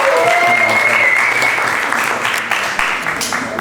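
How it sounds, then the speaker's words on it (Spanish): An audience at a storytelling contest breaks into loud, sustained clapping that fills the room, with a voice briefly heard over the start. "Un fuerte aplauso para el compañero."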